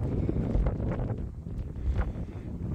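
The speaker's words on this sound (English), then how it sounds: "It's windy. It's very windy" Strong wind buffets the microphone in loud, rumbling gusts on the sand-flats at Rye, East Sussex, with no other sounds standing out.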